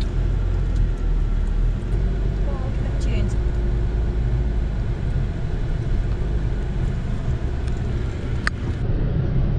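A car drives along Orchid Beach on Fraser Island, its steady engine and tyre rumble loud and continuous from start to finish, with faint voices and a few brief clicks over the drone.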